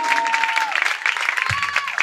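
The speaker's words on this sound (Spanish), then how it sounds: "Fuerte aplauso para la banda." Applause for a band at a 2022 event in El Ventarrón, Sinaloa: dense, steady crowd clapping that fills the whole stretch, with a sustained tone running under it.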